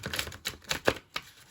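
Playing cards being shuffled by hand during a tarot-style reading, heard as a few quick papery riffles and flutters with short pauses between them, close and fairly quiet, with no voice.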